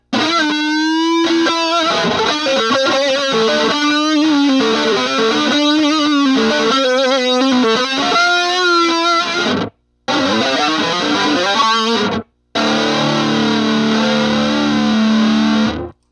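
An electric guitar through a Walrus Audio Julia pedal plays a run of driven, gritty phrases with a sustained tone, loud and close, broken by two brief silences.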